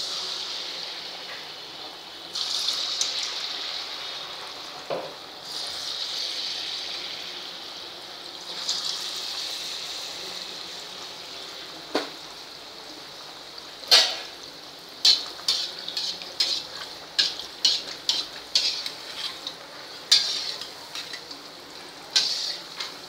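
Sweet gulgule bhaji batter dropped into hot oil on a low gas flame, a steady soft sizzle and bubbling, with a run of sharp metallic spoon or ladle clicks against the pan toward the end.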